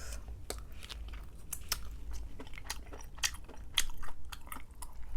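Close, quiet mouth sounds of someone chewing Korean fish cake (odeng), with soft repeated wet clicks and crunchy bites in an irregular rhythm, no talking.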